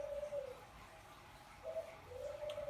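A pet bird, apparently a dove or pigeon, gives soft repeated coos in a quiet indoor room, one call near the start and another stretching toward the end, faint against low background hum.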